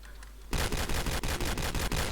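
Rapid automatic gunfire from the shooter video game EDENZ erupts after a brief quiet moment, a loud, dense burst of repeated shots with a few short gaps, continuing to the end with no talking.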